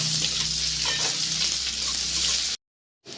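Chopped onions with chili, bay leaf and garam masala frying in a pan while being stirred, a loud continuous sizzle with soft scraping movement, broken by a short silence near the end.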